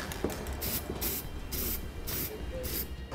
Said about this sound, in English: I'm going to take a little bit of spray paint and coat that